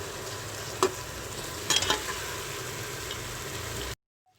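Ginger, garlic and chilies fry in a pan of oil for aloo gobhi, a steady close sizzle broken by a couple of sharp stirring scrapes before the sound cuts off abruptly.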